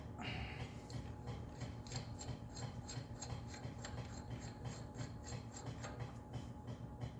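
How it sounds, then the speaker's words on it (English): A puller working on a Ford 8N tractor part gives repeated faint ratcheting clicks over a steady mechanical rumble, rhythmic and fairly close, with no talking. "We'll use the puller instead of beating on it."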